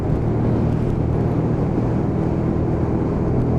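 A Lexmoto Michigan Euro 5 125cc motorcycle with a 5-speed gearbox, heard as a loud, steady engine drone mixed with rushing wind, sustained and close throughout.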